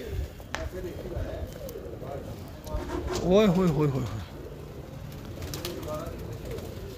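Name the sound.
champion pigeons cooing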